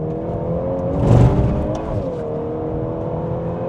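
A VW Golf 8.5 R engine revs while cornering on a track, a steady harmonic drone that swells briefly near the start and then holds an even, close-up hum with no talk.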